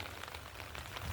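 Rain falls outdoors among trees in a steady, dense hiss of drops on surfaces, continuous and moderately loud with no voices.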